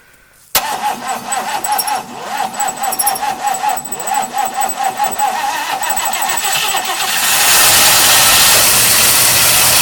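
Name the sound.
classic car engine starting and idling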